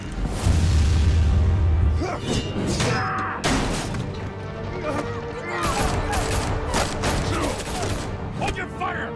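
A chaotic volley of gunfire with crashing impacts fills a dramatic scene in the video game Batman: The Telltale Series, loud and sustained under music and a shouting voice.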